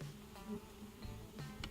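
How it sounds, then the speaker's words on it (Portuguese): Stingless bees swarming around people near their nest, a close buzzing hum with individual insects passing by. "essa é a revoada que ela faz em torno da gente aí"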